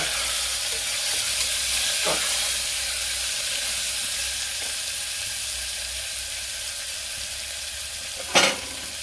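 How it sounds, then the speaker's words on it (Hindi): Tomato stirred into onions frying in a pan for sambar, a steady close sizzle with occasional spoon scrapes against the pan and a sharp clatter near the end. "1 टमाटर, इसे मैं चला दूंगी।"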